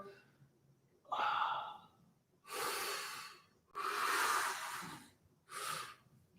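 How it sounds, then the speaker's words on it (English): Slow, deep breathing during a stretching exercise in a vocal warm-up session: four long, close, audible breaths, inhales and exhales separated by short quiet pauses, with no speech. "Breathing and stretching."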